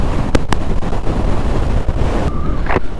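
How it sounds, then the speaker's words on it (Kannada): Strong wind blasts buffet the microphone in a snowstorm at Baralacha Pass, a continuous loud rumbling roar with a few sharper gusts, close and unbroken throughout. "Next level wind blast."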